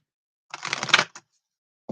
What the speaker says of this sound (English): 4 shuffles for the stability.